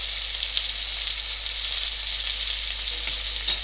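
Tomato puree sizzling in a hot frying pan with a steady close crackle and a few faint stirring scrapes, no talk.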